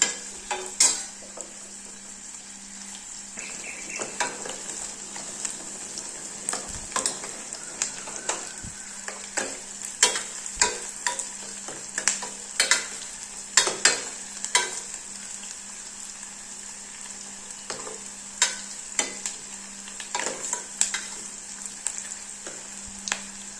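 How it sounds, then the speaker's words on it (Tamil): Onions sautéing in a pan for Tamil-style drumstick and lentil sambar, with a steady close sizzle and repeated scraping stirs of a spoon through the pan, no voices. "வெங்காயம் நல்லா பிங்க் கலரில் வர வரைக்கும் வதக்கி விட்டுக்கலாம்"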